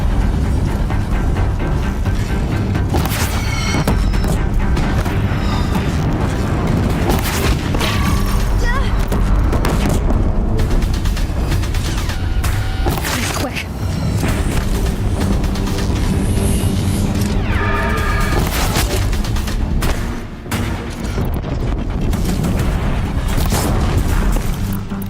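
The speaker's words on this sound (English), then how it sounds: "If the Deathbringers keep firing," Deathbringer machines in Horizon Zero Dawn firing explosive blasts near a bridge, a loud, chaotic run of booms and crashes mixed with battle music and bursts of talk.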